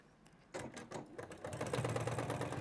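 A sewing machine stitches fabric hexagon shapes, starting up after a brief quiet moment into a close, rapid mechanical rattle that runs on steadily to the end.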